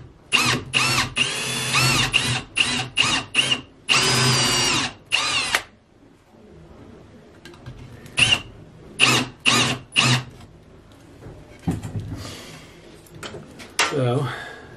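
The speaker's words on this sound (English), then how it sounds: "the first thing I'm going to do is drill a hole with a countersink in it and the end of the strap" Power drill boring a countersunk hole into the end of a steel strap on a table, a series of loud bursts of whirring starting and stopping, with a quieter gap and further short runs later.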